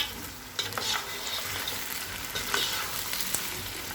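Boiled mutton fries in ginger paste for mutton yakhni pulao, making a continuous close sizzle broken by a few spoon scrapes and stirring bursts, with no voices.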